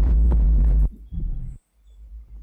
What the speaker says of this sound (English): the loud noise you guys are hearing is actually a bug in the game which was causing a whole lot of distortion